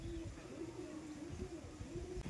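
A male and female pair of pigeons coo softly in a series of low, repeated coos against quiet background noise.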